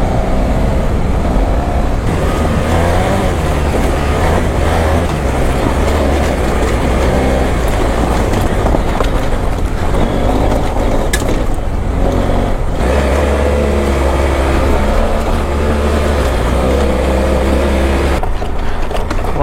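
A motorcycle rides along damp garrigue dirt trails, its engine droning loud and continuous close by with rough rumbling and shifting pitch throughout.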